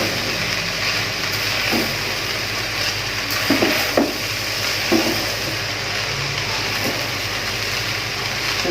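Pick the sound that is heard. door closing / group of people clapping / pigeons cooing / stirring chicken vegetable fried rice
stirring chicken vegetable fried rice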